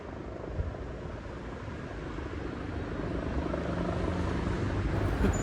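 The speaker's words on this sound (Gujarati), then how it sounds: "એક જ જગ્યાએ સ્થિર રાખ્યું છો હેલિકોપ્ટર" A helicopter hovers nearby in Germany after an attack on a Christmas market, its steady, dense rotor roar filling the air without a break and growing slightly louder toward the end.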